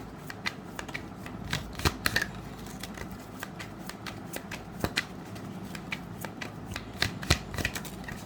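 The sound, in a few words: shuffling and drawing tarot cards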